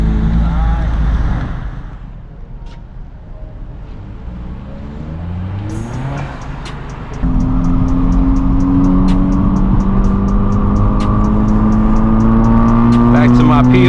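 Honda Civic Type R on a night drive, its engine droning steadily with rising and falling pitch through gear changes, a faint ticking in the background and a louder, steadier engine tone in the second half.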